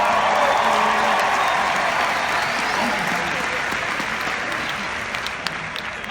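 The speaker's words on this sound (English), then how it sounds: "Give her a big round of applause, will you?" Loud, sustained applause from a large audience fills the space, steady throughout and easing slightly toward the end, with cheers and voices mixed into the crowd noise.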